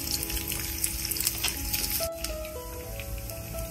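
Chopped onion fries in a pan for a Bengali shrimp and Malabar spinach dish, a steady close sizzle with stirring scrapes and light crackles throughout.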